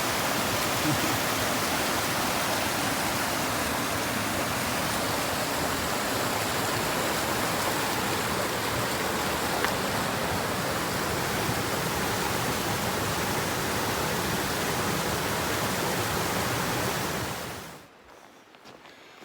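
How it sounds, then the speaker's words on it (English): A Washington stream rushes over rocks and wet logs at a trail water crossing, a loud, steady broadband roar close by that cuts off abruptly near the end. "This is your typical water crossing here in Washington."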